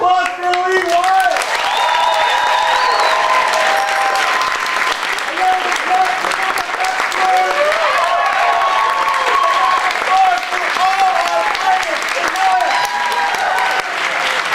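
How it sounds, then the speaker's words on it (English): Sustained applause from an audience at an improv festival show, dense steady clapping lasting throughout with some cheering and a voice speaking over it. "a round of applause for Lee Warren!"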